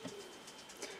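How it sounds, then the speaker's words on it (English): Pigeons cooing in the background on a sunny day outdoors, a soft, low repeated coo heard faintly twice through steady ambient noise, with no talk. "I'm so sorry if you can hear the pigeons in the background there."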